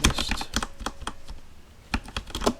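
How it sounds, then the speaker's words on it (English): Quiet switches on a computer keyboard clatter in quick, irregular close taps, a short burst of typing with a brief pause before a few more keystrokes. "it's a good keyboard. Kind of quiet."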